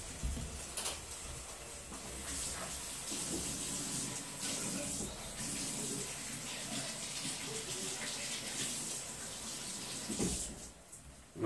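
Tap water runs steadily into a sink while strawberries are rinsed under it, a continuous close splashing hiss that fills the whole stretch with only brief bumps of handling.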